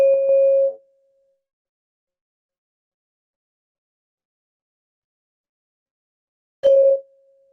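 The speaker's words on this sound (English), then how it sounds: "try to stay with the sound of the bell as long as it goes for" A meditation bell rings in a quiet room at the start of a mindful listening session, one clear sustained tone fading away, then struck again after a long silence with a sharp metallic attack and lingering ring.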